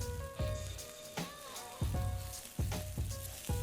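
Spicy Thai fish cakes studded with squid fry in an oiled pan, crackling and sizzling close up with sharp pops and spits at irregular intervals over a constant bubbling hiss.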